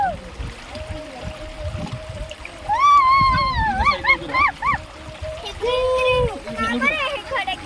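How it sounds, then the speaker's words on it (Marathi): Children splash and play in the water near the Kohane waterfall, with a rushing stream underneath and excited high-pitched young voices shouting and talking close by. "लहान मुलांनी मस्तपैकी पाण्यात खेळण्याचा थोडाफार आनंद"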